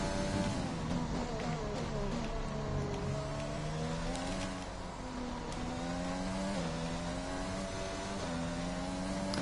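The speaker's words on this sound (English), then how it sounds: "Still can't get enough of the engine sounds." Formula One race car engines from the F1 2020 video game whine steadily, with pitch sliding up and down as the cars accelerate and shift gears, loud and continuous with no voices.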